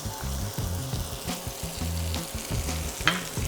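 Shallots and garlic sauté in bacon fat for drunken mussels, a steady crackling sizzle with soft stirring scrapes and a brief sharper pop near the end, close up and with no talk.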